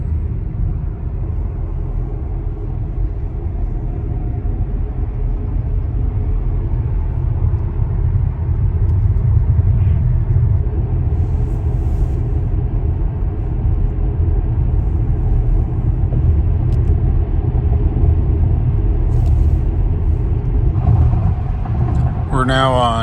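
Car cruising south on Interstate 25 through snowy Colorado, a steady low road rumble and engine drone that holds loud and even throughout, with faint voices beneath.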